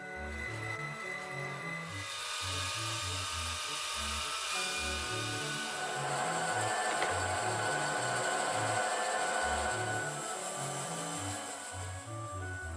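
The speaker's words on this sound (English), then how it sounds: "The blocks are sawn out with a bandsaw and chainsaw" A bandsaw and chainsaw cut elm pulley blocks, a loud, steady whining saw drone with a rising grind partway through, running continuously without speech.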